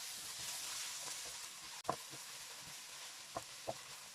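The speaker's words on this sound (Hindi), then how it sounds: "और इन्हें अब 1 से 2 मिनट हम लोग फ्राई करेंगे ताकि इनका कच्चापन दूर हो जाए।" Garlic and ginger paste frying in a pan, a soft steady sizzle with a few faint clinks of a spoon stirring, low in level and without talking.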